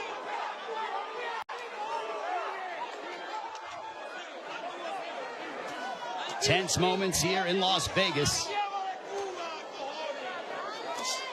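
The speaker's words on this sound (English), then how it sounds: "A very one-sided crowd, all in favor of Manny Pacquiao for the most part." A one-sided Las Vegas boxing arena crowd at the Manny Pacquiao versus Ugas fight roars and murmurs throughout, swelling loudly midway, under continuous commentary.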